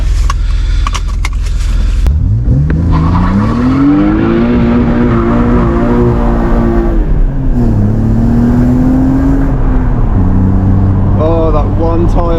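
BMW E36 with an M52 engine swap doing a tyre-smoking burnout: a loud engine roars up and holds high revs, dips, then climbs again, with screeching tyres, rattles and a voice speaking over the noise.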